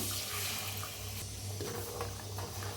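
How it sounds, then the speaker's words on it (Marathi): Water pours into a mixer jar with a continuous splashing, rushing flow that stays fairly steady throughout. "थोडंसं पाणी घालूया"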